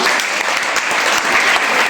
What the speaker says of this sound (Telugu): ఒకసారి గట్టి క్లాప్స్ ఇవ్వండమ్మా